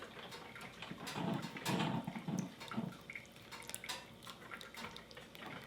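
Sweet and sour sauce poured over meatballs in a roaster, a soft wet pouring and dripping sound that swells in the middle and then trickles on, fairly quiet and close.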